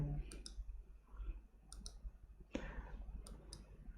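A computer mouse clicks several times in a quiet room, short sharp paired clicks spaced irregularly, close and crisp against a low background hum, with no talk.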